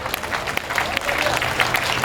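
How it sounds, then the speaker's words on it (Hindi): An audience at a live Hindi-language comedy show applauds, a dense but somewhat thin spatter of claps that continues steadily, with voices audible over the clapping. "कमजोर ताली है"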